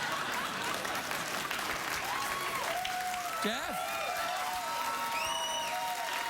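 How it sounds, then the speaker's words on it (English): Studio audience applause at a late-night talk show, a steady wash of clapping filling the clip while a voice and laughter cut through over the top. "So that was a round of applause because my balls are falling."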